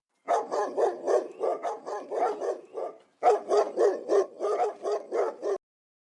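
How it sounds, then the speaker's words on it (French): Two huge dogs bark aggressively in rapid, repeated bursts, loud and close, with a brief pause before another volley. "Arthur et Philou avancent et aboient agressivement contre les voleurs"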